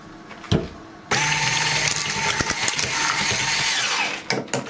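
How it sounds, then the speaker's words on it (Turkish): Chocolate sauce whisked in a bowl for a sheet cake: a continuous close clattering, scraping whir with small rhythmic ticks, following a couple of brief knocks. "Hemen çikolata sosumu çırpacağım."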